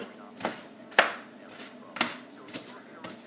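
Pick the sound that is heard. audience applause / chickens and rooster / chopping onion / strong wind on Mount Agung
chopping onion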